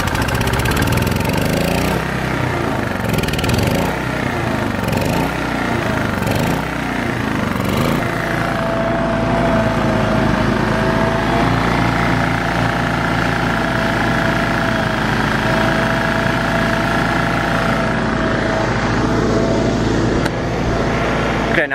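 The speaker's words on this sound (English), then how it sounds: "Now that it started to fire up, I'm going to turn choke about halfway." A gasoline generator that had trouble starting sputters and surges unevenly for its first seconds, then settles into a steady, loud, constant idle drone that runs close by to the end.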